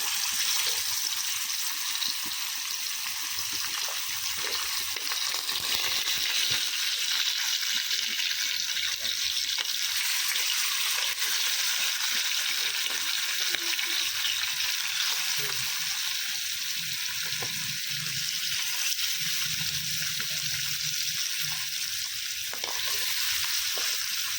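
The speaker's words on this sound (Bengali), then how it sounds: "তেলটা কিন্তু খুব ভালো করে গরম হয়ে গেছে এখানে মাছগুলো দিয়ে দেবো" Fish fry in well-heated oil on a tawa, a loud, constant sizzling hiss close at hand that holds steady throughout, with faint spatters and stirring beneath it.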